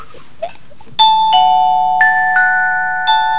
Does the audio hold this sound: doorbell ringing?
yes